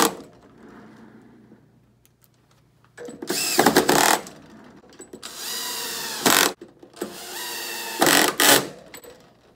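A power tool whirs in three short bursts, close and loud, driving screws while an eyewear holder is assembled, with quiet pauses between each run.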